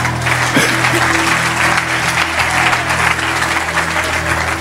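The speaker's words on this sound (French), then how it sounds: "Acclame très fort là où tu es." A church congregation claps loudly during a prophetic sermon, with dense, steady applause filling the room from start to finish.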